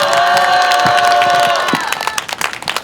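Crowd at an outdoor candlelight political rally in Sagajeong, Seoul, applauding and cheering loudly, with sustained whistles and shouts over dense clapping that thins out toward the end.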